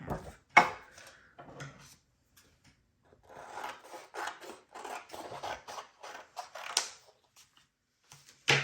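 Scissors snip through journal papers, cutting them in half. Short rasping cuts come in irregular bursts with brief pauses between them. The sound is close and soft, with no talking.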